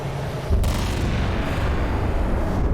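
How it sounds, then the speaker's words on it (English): A Predator missile strike booms in the Halo 4 campaign, a heavy explosion that kicks in abruptly after half a second and rolls on as a loud, sustained low rumble with crackling debris, no voices over it. "We got a Predator missile coming in."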